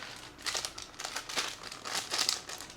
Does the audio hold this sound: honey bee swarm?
no